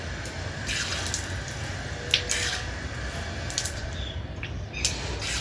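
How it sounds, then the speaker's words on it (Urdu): Water runs steadily from a tap as the face is washed during ablution, a constant close splashing hiss with occasional drips and small splashes into a sink. "اب میں چہرے پہ پانی ڈال رہا ہوں"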